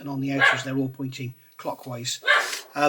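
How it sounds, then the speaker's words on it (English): A puppy barks and yips indoors in short bursts, moderately close, mixed in with someone talking over it. "So sorry about the dog barking."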